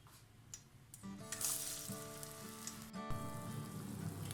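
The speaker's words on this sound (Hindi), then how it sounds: "इसके अंदर हम डिप करते जाएंगे और डिप करने के साथ ही साथ हमने इसको ऑयल में डालकर फ्राई कर लेना है" Chicken potato samosa pinwheels dropped into hot oil, a quiet bubbling sizzle that starts soft and grows into a steady frying hiss with faint crackles.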